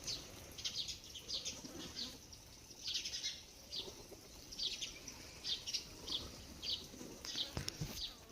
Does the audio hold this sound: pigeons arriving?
yes